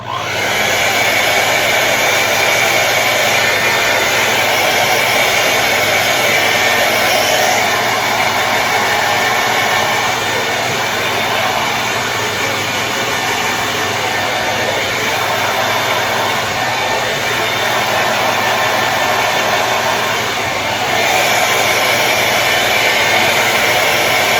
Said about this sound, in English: doing it with the hair dryer